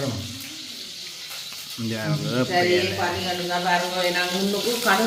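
Mustard seeds hit hot oil in a Jaffna home kitchen and break into a bright hiss and sizzle partway through. A voice talks over the frying, which stays close and fairly loud to the end.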